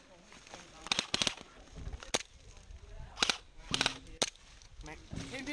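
Airsoft guns fire during a milsim game outdoors, with sharp snappy shots in quick clusters of two or three, fairly faint and distant, while players talk.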